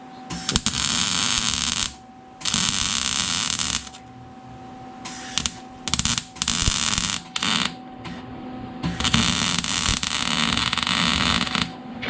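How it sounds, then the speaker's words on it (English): A faulty welder buzzes and hums in loud bursts that cut out and restart irregularly, with stops of varying length, close by in a shop. "This welder's acting up, the handle keeps stopping."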